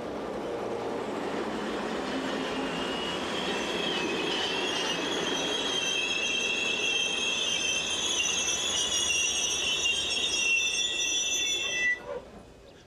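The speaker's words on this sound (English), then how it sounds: "Photogenic triple-heading workings like this" A triple-headed freight train with three locomotives on 25 kV AC electrified line near Gouvy rumbles past close by, a steady loud roll with high wheel squeal and clatter before cutting off abruptly at the end.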